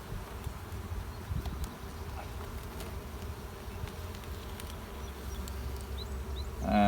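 Honey bees crowd a brood frame of emerging young bees in a spring hive, giving a continuous low close drone with no voices.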